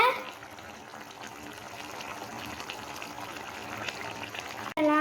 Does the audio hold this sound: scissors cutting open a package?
no